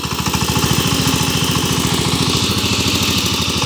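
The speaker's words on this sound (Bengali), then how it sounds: "সাইপিং 28 ব্লেডের পাওয়ার টিলার দিয়ে জমিতে মই দেওয়া হচ্ছে।" A 28-blade power tiller engine harrowing a muddy field, a loud, steady chugging drone with a fast, even pulse that runs without a break.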